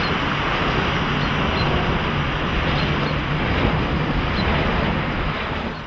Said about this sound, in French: Et le bruit moteur, ça ressemble plus à un avion qui passe en altitude.